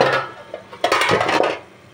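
A cooking pot being stirred, with scraping and light clinks of a utensil against the pot in irregular bursts, close and moderately loud, no talk.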